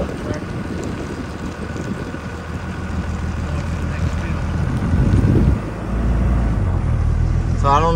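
A tractor discing a farm field before soybean planting, a steady low engine drone heard from outdoors with heavy wind rumble on the microphone and a brief spoken voice.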